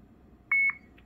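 A Ghost XL Drift helmet camera gives a single short electronic beep as it powers on. The tone is clear and steady against a quiet background, followed by a faint trailing blip.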